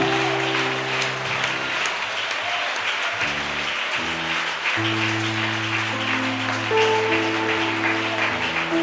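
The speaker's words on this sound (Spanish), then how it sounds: "A ver, iglesia, un aplauso al Rey que habita aquí." Church congregation applauding during a worship service, a continuous bed of clapping under sustained keyboard chords, loud and steady for the whole stretch.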